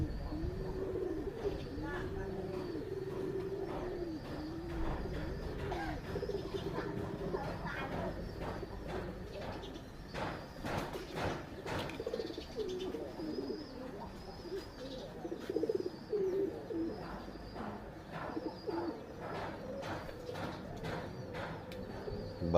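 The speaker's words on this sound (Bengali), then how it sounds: "এই যে দেখেন সাদা কবুতর অনেক হয়ে গেছে এখন।" White pigeons coo steadily and repeatedly around a village home, with soft chirps and faint rustling in the background, a voice occasionally speaking over the birds.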